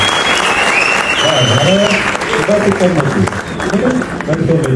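An audience applauds three actors at the premiere of the film Kebad Mafiya, a loud sustained wash of clapping, with a presenter's voice talking over it from the middle onward.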